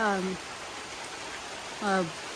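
Late-March rain falls steadily in a farming area, making a continuous, even hiss. A voice is briefly heard at the start and again near the end.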